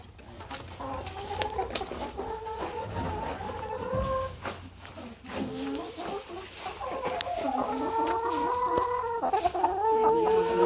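Chickens cluck and murmur inside a backyard coop where an injured hen is being tended, a steady, close chorus of soft clucks growing busier and louder toward the end.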